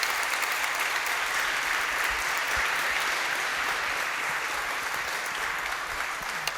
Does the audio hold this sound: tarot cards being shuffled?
no